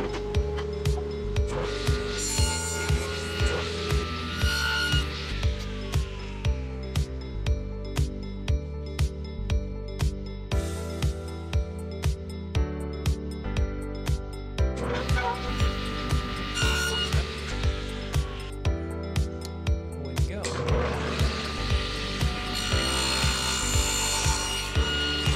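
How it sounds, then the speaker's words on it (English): A table saw cuts a scrap wood backer board, a loud, close grinding whine broken by quick rhythmic knocking, with the pitch rising in three surges as the blade bites the wood, and nobody speaks. "Let's head over to the table saw and get this guy cut out."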